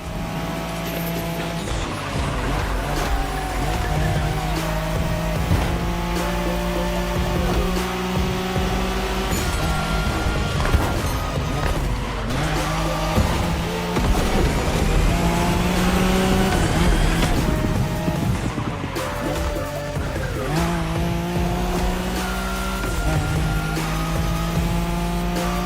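A Nissan Skyline racing in The Crew, its engine roaring at high revs with rising and falling gear changes and occasional tire squeal, loud and continuous throughout.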